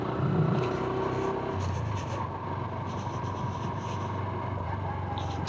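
A Honda Super Cub motorcycle rides through a chilly night with its small engine droning steadily and close, a low even hum with road and wind rush that runs unbroken throughout.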